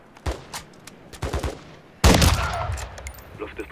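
Gunshots in Call of Duty Modern Warfare 3, first a few scattered pops, then a loud close burst of fire that trails into a rumbling echo.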